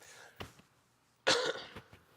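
A man coughs twice in a quiet room, a short cough followed by a louder, harsher burst with a brief trailing rasp, close to the microphone.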